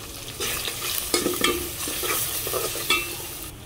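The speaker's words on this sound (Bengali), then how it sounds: "এগুলো কষিয়ে নিব মশলাগুলো" Ground turmeric, chili, coriander and salt fry in a pan with a constant close sizzle, punctuated by repeated brisk scraping stirs, with no voices.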